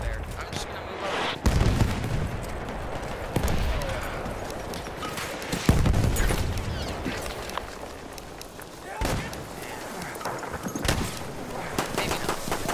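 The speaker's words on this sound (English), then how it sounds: "I am going to sit here and machine gun the people" Battlefield 1 gunfire, repeated bursts of machine gun fire with broadband crackle and occasional heavier booms, loud and close over a dense battlefield din, with a voice speaking over parts of it.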